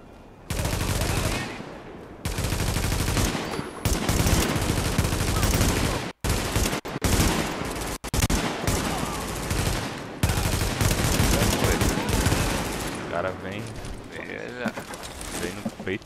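Rapid bursts of automatic gunfire in The Division co-op game, loud and near, broken by short pauses, with voices talking over it.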